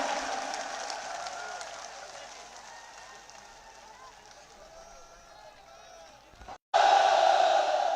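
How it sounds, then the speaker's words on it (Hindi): Audience at a political rally clapping to welcome candidate Ramji Beniwal: a dense wash of applause and crowd noise that gradually fades, then cuts off abruptly before a louder burst at the end. "अब जोरदार तालियां बजाकर स्वागत करें आदरणीय उम्मीदवार रामजी बेनीवाल साहब का"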